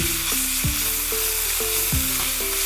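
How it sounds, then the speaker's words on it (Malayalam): Chicken kheema masala with garam masala, mixed and cooking in a pan for biryani, giving a continuous loud sizzle with a low hum and rhythmic scraping strokes about every half second. "ഇത്രയും ചേർത്ത് ഇതിനെ ഒന്ന് നന്നായിട്ട് മിക്സ് ചെയ്ത് വെക്കണം."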